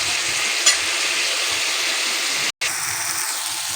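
Bottle gourd and lentil dal sautéing in oil in a pan gives a steady, close sizzle and fry hiss throughout, with a brief sharp tick near the start and a momentary dropout partway through.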